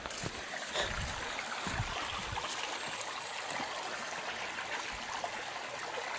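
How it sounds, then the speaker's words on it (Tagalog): A small stream flows outdoors, its water trickling and babbling in a steady, moderate wash with a few brief splashes and no talking. "Sa may sapa."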